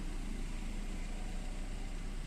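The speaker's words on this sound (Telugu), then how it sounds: "ఇంజన్ సోడ్ కూడా మీకు వినిపిస్తాను" A 2017/18 Maruti Ertiga VDi 1.3 diesel engine idles with a steady, even rumble heard up close, unbroken and with no voices.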